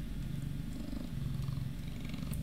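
A cat purring close up, a soft continuous low rumble with a steady pulsing rhythm, quiet and alone with no talk.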